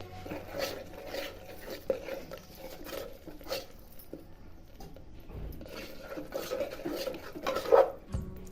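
Sweet puran filling for karanji is mixed and mashed with sugar. Soft, irregular rasping and scraping strokes repeat faintly and close by, with no talking.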